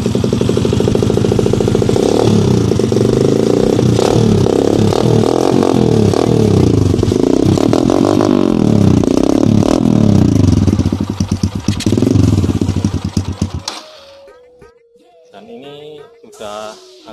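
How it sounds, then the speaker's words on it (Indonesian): Kawasaki KLX dirt bike with knobby tires revving its exhaust up close, a loud continuous engine roar with rising and falling revs for about thirteen seconds before cutting off to quiet idle and faint handling noise. "Kita coba tes knalpotnya ya teman-teman, suaranya kayak gimana, kalian dengerin ya."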